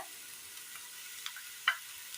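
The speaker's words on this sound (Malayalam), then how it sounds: "പൊടികളും മൂത്ത് കിട്ടിയിട്ടുണ്ട്" Spice powders fry in oil in a pan for a Kerala chickpea breakfast curry, a faint steady sizzle with a few light stirring clicks, one louder scrape near the middle.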